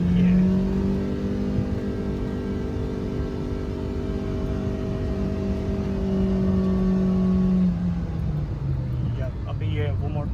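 A Mitsubishi Lancer 1.6 automatic accelerates hard with kickdown, the engine note holding steady then dropping as the gearbox shifts near the end; loud, close cabin sound with someone speaking over it.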